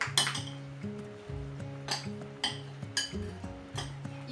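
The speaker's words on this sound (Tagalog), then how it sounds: "Mix it well." Salt, pepper and soy sauce are stirred together for baked bangus, a utensil clinking against a bowl in a steady repeated rhythm of sharp, close taps with no talking.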